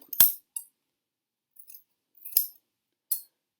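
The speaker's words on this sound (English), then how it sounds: "you're just going to slide your scissors in there and chop." A few crisp, quick snips of scissors cutting, separated by short pauses, close and isolated in a quiet room.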